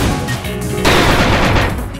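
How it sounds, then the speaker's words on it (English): A laser fires in the Kirby Star Allies video game, a loud, crackling burst of blasts that swells partway through and continues over busy game music. "And fire my laser."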